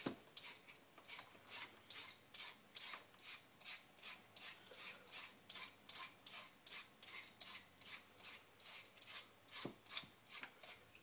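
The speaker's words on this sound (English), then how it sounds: "So I'm just going to make several shavings and go that route with it instead." A hard carrot is shaved into thin strips, giving a rhythmic series of close, crisp scraping strokes, roughly two per second, each a short raspy rub, heard alone without speech.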